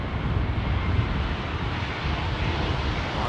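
Rolls-Royce-powered oneworld Boeing 777-200 at London Heathrow runway 27R, a steady, loud broadband jet engine roar that holds constant throughout with slight wind buffeting and no talk.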